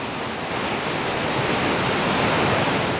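The Yellow River in China rushes past as a dense, even roar of water, steady and close with no voices.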